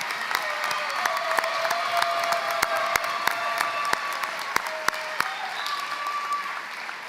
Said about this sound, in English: Please join me in a round of applause for this amazing team